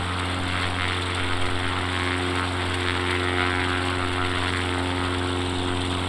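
Propeller engine of an X Cub light aircraft in flight over Carmel Valley, a steady droning hum with a constant low tone, heard from inside and holding unchanged throughout.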